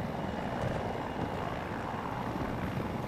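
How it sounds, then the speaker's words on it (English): An attack helicopter in Battlefield 2042 gives off a steady, rumbling rotor and engine drone at moderate level, with no voices over it. "Oh yeah, attack helicopter right there, I see him."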